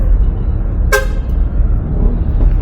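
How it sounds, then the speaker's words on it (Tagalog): Heavy late-night traffic on EDSA near flyover construction: a single short car horn honk cuts sharply over a constant low rumble of idling and crawling vehicles. "Tignan mo, 1 AM the morning na, pero diba, sobrang traffic."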